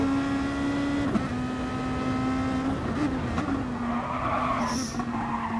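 Tire skidding and squeal under late braking in a racing game at Spa endurance, a steady continuous screech over engine drone lasting throughout, with brief higher squeals near the end.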